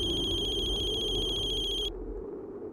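A telephone ringtone chirps steadily and up close for about two seconds, then cuts off abruptly, leaving a low room hum in a domestic scene from a Hindi TV serial.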